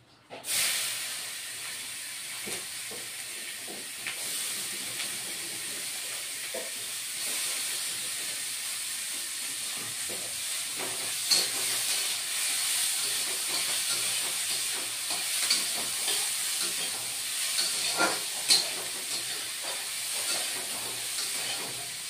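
Chopped onions fry in a pan for a rohu fish and tomato curry, giving a steady close hiss throughout with a few soft clicks and spatters and no talking.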